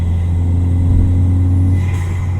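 Car engine fitted with an extremely loud aftermarket intake, a deep, heavy rumble held steady and loud, with a faint rising rev tone fading out near the end, alone without talk.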